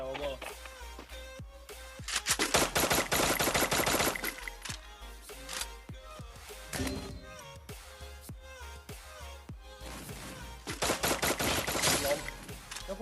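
Rapid automatic fire from an XM8 rifle in the shooter game Free Fire, sharp and loud. Dense sustained bursts come early and again near the end, with scattered single shots between them and voices talking underneath.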